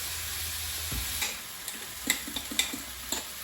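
Chicken browning in a pan for chicken pot pie, a steady low sizzle with a few soft stirring clicks and scrapes scattered through, close by and with no talking.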